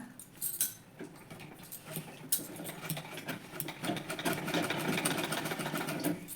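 Home sewing machine stitching recycled salwar fabric into an organizer: a steady whirring run that starts quieter and builds to a continuous loud drone, close up, with no talk.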